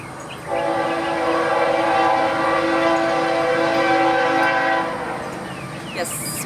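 A loud train rumbles past up close, with a steady blaring horn held for several seconds before the noise eases off as it moves away.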